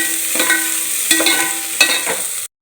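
Paneer biryani masala frying in hot oil gives a bright, close sizzle, with a few scraping stirs of a spoon before it cuts off abruptly.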